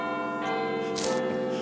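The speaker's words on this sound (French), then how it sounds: "Vous avez reconnu évidemment le célèbre carillon de Big Ben qui on entend tous les quarts d'heure à Londres." The Big Ben clock chime in London rings in a brief, resonant run of bell tones with lingering overtones, heard alone at moderate volume.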